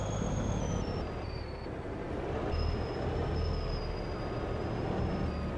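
A heavy truck engine in Farming Simulator 22 rumbles loudly and continuously, with a high tonal whine that dips, fades and then returns over the constant low roar.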